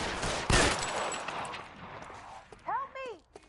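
Gunfire in a 1940s Los Angeles detective game, L.A. Noire: a loud, close shot bursts out early and fades into a noisy, reverberant tail, followed near the end by a short spoken cry.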